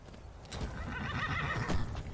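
A horse in The Elder Scrolls V: Skyrim neighs with a shrill whinny while its hooves clip-clop steadily underneath, moderately close and with no talking.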